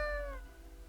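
A single drawn-out meow from the cat in the video game Death and Taxes, clear and fairly loud, tapering off after about half a second with no voices.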